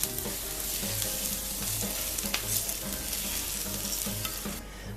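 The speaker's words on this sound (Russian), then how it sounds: "Перец с луком. Лук обжарился, отправляю его в борщ." Fried onion and pepper tipped into a pot of meatless borscht with beans, giving a steady broadband sizzle and stirring clatter with a low repeating hum underneath, continuous and fairly close, no voices.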